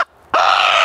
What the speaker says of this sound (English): a rather noisy bird called a channel-billed cuckoo